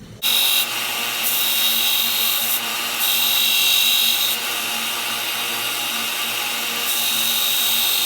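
A metal part is filed down to size by hand during a GoldenEdge installation, a loud steady rasping that runs continuously for several seconds with only brief shifts in stroke and no talking.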